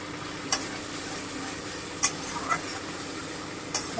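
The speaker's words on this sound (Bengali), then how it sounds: "প্রচণ্ড ছিটছে ভীষণভাবে লাফালাফি করছে" Moong dal and pointed gourd frying in a pan with cumin paste give off a steady, close sizzle, broken by a few sharp spattering pops and scrapes of stirring.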